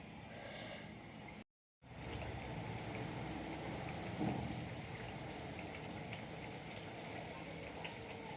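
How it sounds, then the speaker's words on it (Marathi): Fresh green pea kachori frying in hot oil, giving a steady, dense crackling sizzle that runs throughout after a brief drop to silence near the start. "आता तेल पण गरम झालेलं आहे आपलं आपण एक एक असं करून सोडू आता"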